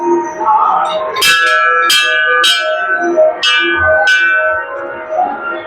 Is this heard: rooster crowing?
no